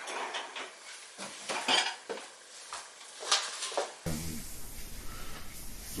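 Dishes, pots and cutlery clatter in a series of close, uneven clinks and knocks as they are shoved into a crowded cupboard, followed by a steadier rattling wash of noise near the end.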